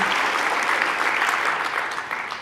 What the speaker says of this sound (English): let's give a big round of applause to all of the presenters today